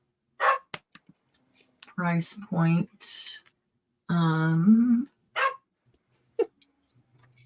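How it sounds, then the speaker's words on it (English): A dog barks a few times in the background, with short yips in between, while a person speaks briefly nearby. "Sorry if you can hear my dog in the background."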